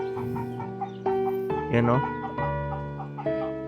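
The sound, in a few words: chicken clucking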